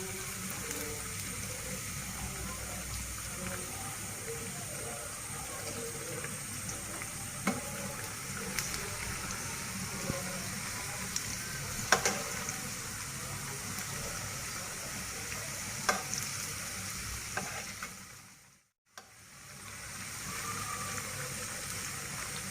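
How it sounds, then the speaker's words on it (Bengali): Palm fritters (taal bora) made with coconut frying in hot oil after being flipped, a steady broadband sizzle with small pops throughout, then a brief drop near the end before the frying hiss returns, no talking. "এখন আমি বড়াটা উল্টিয়ে দিব।"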